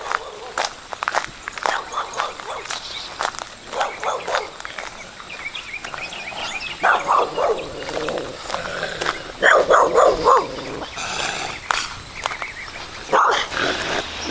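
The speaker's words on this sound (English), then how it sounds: "dog barking at me" A dog barks repeatedly in bursts nearby on a back road along the Mason-Dixon Trail, mixed with footsteps on a path and birds outdoors.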